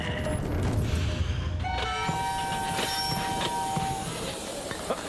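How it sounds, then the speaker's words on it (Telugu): Train standing at a railway station, with a steady rumble of the rail cars and a long horn-like tone sounding midway, amid general platform noise. "ట్రైన్ ఇక్కడ 5 నిమిషాలు ఆగుతుంది."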